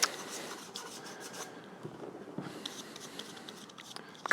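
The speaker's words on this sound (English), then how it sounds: "of clogging my sandpaper here with some of the filler that wasn't quite dry over on this side" Sandpaper rubs back and forth over a 3D-printed Spider-Man shell coated with filler, giving a close, dry, gritty rasping in uneven strokes with a brief pause midway, and no talking.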